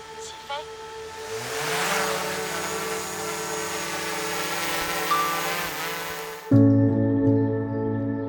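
A DJI Air 3 dual-camera drone spins up and lifts off outdoors beside a parking lot above a sea of clouds in Japan. Its rising motor whine settles into a steady buzzing hum, with a louder tonal surge near the end.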